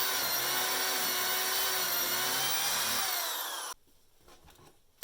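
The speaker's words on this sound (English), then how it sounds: "I made a starting point in the handle for the jigsaw blade using a 1/2-inch Forstner bit." A power drill spins a 1/2-inch Forstner bit into a plywood handle with a steady high whine that cuts out near the end, leaving faint quiet noise.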